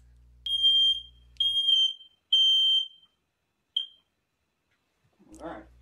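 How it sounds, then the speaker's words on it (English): A fire alarm goes off indoors with three loud, long beeps in steady succession, then a shorter chirp, followed by a brief burst of rustling noise. "His quest to turn off the fire alarm, and he set off another one."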